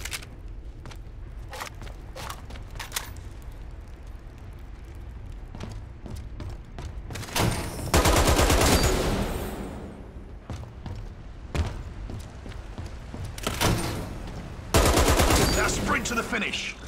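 Gunfire at targets in the shooter game Dirty Bomb: scattered single shots early, then dense loud bursts of rapid fire, with footsteps and in-game voice lines woven through.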